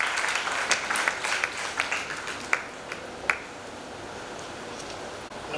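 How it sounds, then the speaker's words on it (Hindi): An audience at a writers' festival poetry session applauds to welcome the session chair, scattered claps rising out of a soft room wash, with a few distinct sharp claps standing out before it thins into quiet. "जोरदार तालियों से स्वागत कीजिए हमारे आज के सत्र के अध्यक्ष श्री हरीश मीनाश्रू जी"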